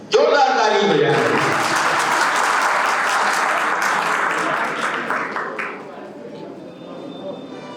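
Audience applause at a chemistry coaching institute's annual function: loud, dense clapping from a crowd starts at once, then gradually fades, with a voice briefly heard at the start.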